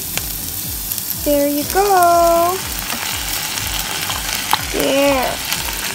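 Shrimp frying in a pan of seafood pasta sauce with onion and oregano, a steady close sizzle with stirring scrapes, while a voice speaks briefly over it.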